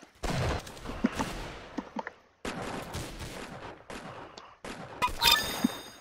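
Automatic sniper rifle fire in a Roblox shooter: three loud clusters of sharp shots separated by brief gaps, with clipped echoing tails and some small electronic chimes near the end.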